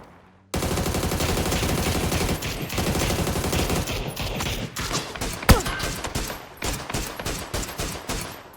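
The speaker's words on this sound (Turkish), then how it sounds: "Kim sıkıyor oğlum uzaktan?" Distant gunfire in the battle royale shooter PUBG, dense volleys of shots that continue into scattered reports with a sharper crack near the middle, all over a constant game-ambience wash.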